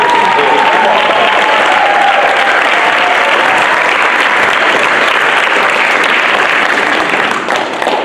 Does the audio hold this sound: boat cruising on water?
no